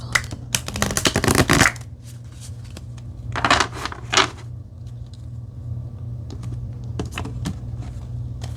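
Tarot cards being shuffled in several quick riffling bursts, close by, with pauses and light handling taps between them.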